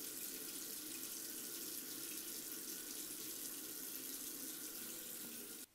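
Water rushes through a pumping system in a continuous, even hiss of flow that holds steady and loud, then cuts off abruptly at the end.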